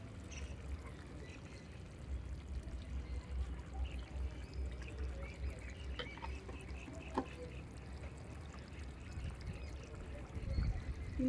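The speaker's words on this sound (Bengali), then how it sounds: "অল্প করে একটু কাঁচা তেল দেব" A little raw oil poured into a simmering hilsa fish curry, a soft liquid pour and trickle over a low bubbling, clattering background, faint and close.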